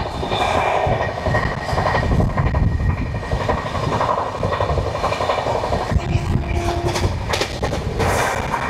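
The Falaknuma Express, on the Howrah to Hyderabad route, runs nonstop between Kharagpur and Balasore with a loud, steady rumble and rhythmic clickety-clack of wheels over rail joints, heard from on board with sharp knocks along the way.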